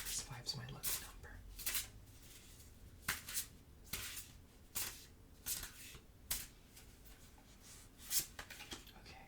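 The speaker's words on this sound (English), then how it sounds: "I'm going to shuffle it 5 times because 5's my lucky number." Tarot cards are shuffled in a run of crisp, close riffling bursts, each a second or so apart and separated by brief pauses, soft and intimate with faint background hiss.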